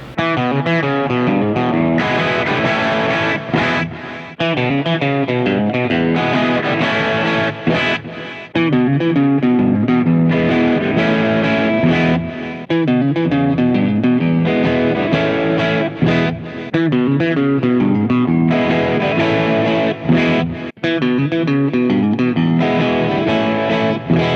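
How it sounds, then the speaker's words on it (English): Heavily distorted Les Paul electric guitar using split single-coil pickup tones plays continuously, loud and sustained, with chords and riffs ringing out and no voices. "I can get all kinds of different single coil tones out of this guitar."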